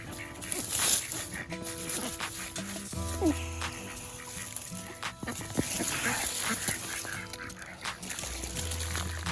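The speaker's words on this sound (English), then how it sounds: "Go on, have at it, chickens, ducks." Chickens and ducks being fed on a farm, with overlapping quacks, clucks and honk-like calls in a busy, steady chorus, plus occasional low grunting and scattered clatter nearby.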